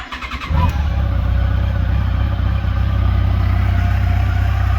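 A Yamaha FJR 1300 motorcycle engine, fresh from a motor swap, cranks briefly and catches, then runs at a steady, loud, close idle with no talking.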